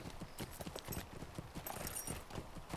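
Horse hooves of a ridden mount in a video game, a steady, quick clip-clop rhythm at moderate volume with no talking.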